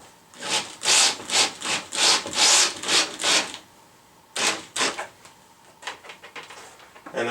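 Screws are driven into a wooden wool clothing drying rack with a rhythmic series of rasping, grinding turns, loud and close, then a pause and a few more shorter, fainter turns.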